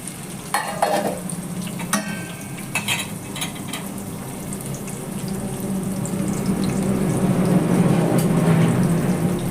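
Chicken sizzling and frying in hot oil, a steady loud crackle that builds in intensity over several seconds, with a few clinks of a utensil near the start.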